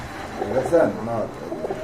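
A pigeon's soft, low cooing rises briefly, mixed with indistinct voices nearby.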